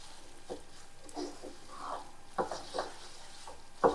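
Sesame seeds roasting in a pan for tal laddu, with a soft, quiet sizzle and intermittent scraping strokes of a spoon stirring them, plus a few light clinks against the pan.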